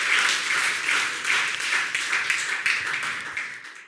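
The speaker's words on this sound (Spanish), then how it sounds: "Den un fuerte aplauso a Dios" A church congregation claps steadily in a sustained round of applause, the dense patter of hands fairly distant and moderately loud, tapering slightly toward the end.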